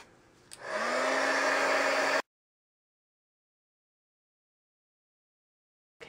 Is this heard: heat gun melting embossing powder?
yes